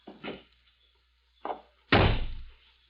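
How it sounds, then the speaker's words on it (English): A car door swings shut with a solid slam after two softer thumps of handling, close and loud against a quiet background. "stand aside while I release the brake and close the door."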